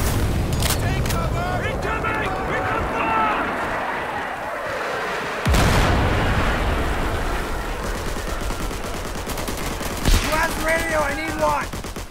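Heavy gunfire and blasts in a Vietnam war video game, a loud burst at the start, a sharp crack midway, then further bangs and rattling fire later, with voices shouting over the action.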